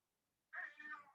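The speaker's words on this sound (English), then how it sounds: "Yes, that's my cat meowing." A single short cat meow, close and clear, following a moment of near silence.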